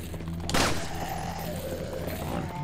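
A sharp gunshot in Resident Evil 4 rings out about half a second in, followed by a lingering ringing tail over steady game ambience, no talking.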